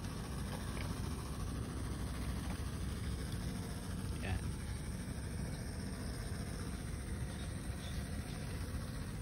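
The two engines of a Kiasa Plus dual pump sprayer idle together in a steady low drone, with faint background voices.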